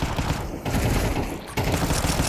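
Rapid pistol gunfire from a Five-SeveN in a Counter-Strike 2 match on the Ancient map sounds as dense, loud bursts of shots, with a short lull in the middle before the shooting resumes.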